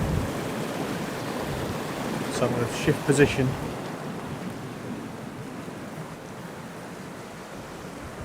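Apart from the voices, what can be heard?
turbulent river water with downstream wind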